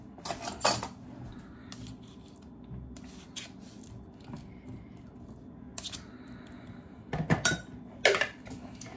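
Cauliflower mac and cheese mixture scraped from a dish into a mini crock pot: clinks and clatters of utensil against ceramic, scattered knocks, with a quiet kitchen background between them.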